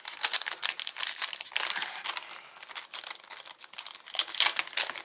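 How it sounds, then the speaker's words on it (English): Crinkly plastic packaging rustles and tears close up, with dense crackling bursts and a few sharper rips in quick succession. "Sorry for the rustling, I'm just going to tear that."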